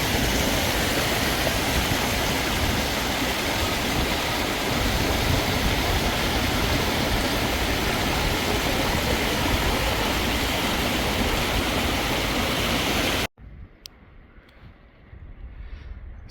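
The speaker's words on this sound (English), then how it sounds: "the reflections from the water, and a little stream here" A small stream flows beside a mountain lake, a loud, steady rush of water that continues unbroken, then cuts abruptly to a much quieter outdoor scene near the end.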